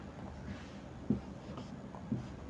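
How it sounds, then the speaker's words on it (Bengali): A pen writes a Bengali sentence on a surface, soft close scratching strokes with a few slightly louder taps, quiet and steady. "দেখুন আমি একটা বাংলা মানে লিখছি, বাংলা সেন্টেন্স লিখছি বা বাক্য লিখছি।"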